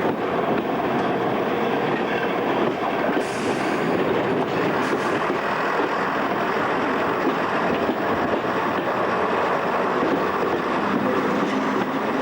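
A passenger train runs on the Oxford to Cambridge line in Buckinghamshire, a continuous close rumble of wheels on rails with faint clickety-clack and brief high squeals partway through.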